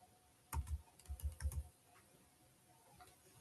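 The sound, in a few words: typing on a computer keyboard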